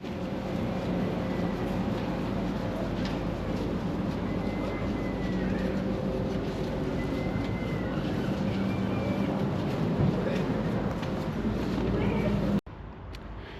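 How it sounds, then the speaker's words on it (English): Steady ambience on a platform at Whitby railway station: a broad, continuous low rumble with faint tonal hums, occasional bird calls and a murmur of voices, ending in a sudden cut to quieter background. "I'm here at Whitby train station."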